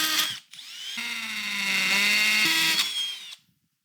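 A power drill whines loudly into soft metal with a 2mm bit, pitch rising as it spins up, running steadily for a few seconds before stopping abruptly.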